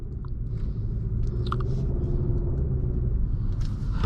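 A 2021 Hyundai Sonata Limited pulls away and drives, a steady low engine and road rumble heard from inside the cabin, with a few faint clicks and taps over it.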